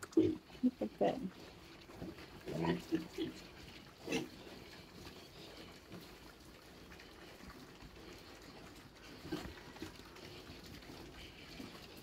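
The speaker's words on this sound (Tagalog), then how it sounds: "Ito ang pinakamalaki kong baboy." Large pigs on a farm, giving short grunts and squeals in bursts early on and again later, moderately near but faint, amid a scuffling background, with someone speaking.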